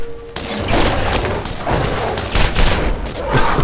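Rapid sniper rifle fire from the Borderlands video game, loud bursts of shots and booming impacts repeating throughout, with a brief tone before the firing begins.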